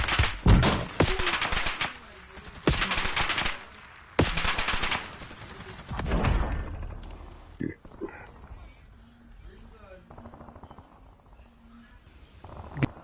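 Bursts of gunfire in Call of Duty Warzone (Black Ops 6 battle royale), several loud rapid volleys in the first seconds giving way to sparser, quieter shots, with players talking over the action.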